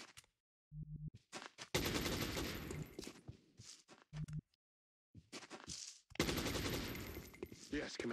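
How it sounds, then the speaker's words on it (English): Bursts of automatic gunfire from a tactical video game, loud, dense and sustained for several seconds at a time, broken by short gaps, with brief talk in between. "Suppressing fire on target."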